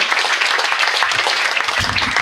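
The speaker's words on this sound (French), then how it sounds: "L'applaudir très très fort." Loud, dense applause from a live audience at a comedy show, continuous clapping that stays strong from start to finish with a few low thumps near the end.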